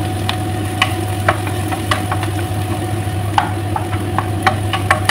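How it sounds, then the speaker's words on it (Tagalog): Onion and garlic with curry leaves browning in a pan for meatball curry, a steady close sizzle with scattered crackles and pops over a constant low hum, no voices. "Brown lang natin yan guys, ang onion at saka garlic."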